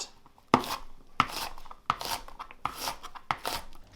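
Knife chopping onion into small diced pieces on a board for pea and ham soup, about six sharp, evenly spaced cuts standing out clearly, with no talking.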